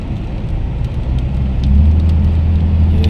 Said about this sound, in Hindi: हल्की हल्की बूंदाबांदी।